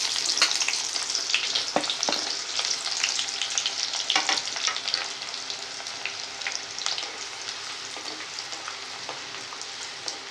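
Oil sizzles and crackles steadily as fennel seeds, a leaf and onion fry, with occasional scraping stirs early on and a continuous hiss that softens slightly toward the end.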